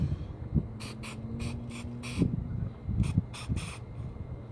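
Spray paint can hissing in several short separate bursts while painting a drip-effect pot, close and fairly quiet, with light handling noises between sprays.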